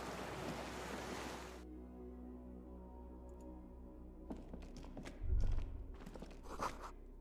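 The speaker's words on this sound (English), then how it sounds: "Water rushes below, far down below." In the video game Disco Elysium, water rushes far below as a broad surf-like wash that fades to a quiet hum, followed by faint scattered thuds and a low rumble.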